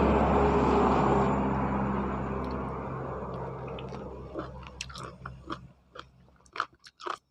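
Golden apple snail meat, with its crisp, springy texture, is chewed close to the mic. After a fading rumble of passing traffic come a series of sharp, irregular crunchy bites.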